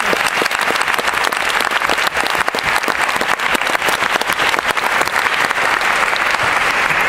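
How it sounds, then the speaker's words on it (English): Sustained, dense applause from an audience at a college of music commencement ceremony, loud and steady for the whole stretch with no voices over it. "Let's give them a round of applause."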